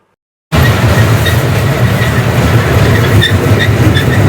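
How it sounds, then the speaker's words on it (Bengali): A train gets under way, starting abruptly from silence into a steady, loud rolling rumble with rhythmic clacking and faint metallic squeals throughout, with no speech. "আমাদের ট্রেনটা চালু হয়ে গেছে"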